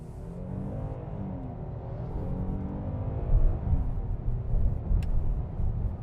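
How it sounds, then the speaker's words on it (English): A 2024 Kia Telluride SX X-Pro V6 AWD accelerating in sport mode, a low engine rumble building and swelling from inside the cabin, moderately quiet and steady. "It definitely increased the throttle noise of the vehicle."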